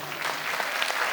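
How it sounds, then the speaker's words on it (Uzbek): Audience applause at an International Students Day celebration at USAT, with dense, even clapping from a hall full of people throughout the brief moment. "Albatta bitta qarsak chalib qo'yinglar."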